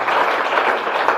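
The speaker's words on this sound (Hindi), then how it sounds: "जबरदस्त ताली चाय के लिए।" An audience claps together in a steady, dense round of applause at a motivational talk, the clapping sustained and fairly loud throughout.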